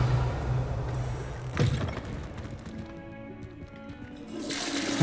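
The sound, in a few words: toilet flushing in the video game Hogwarts Legacy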